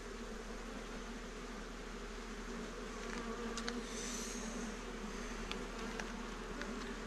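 Honeybees in an open hive on Réunion island, a dense, steady buzzing hum at low level with occasional individual bees flying close past.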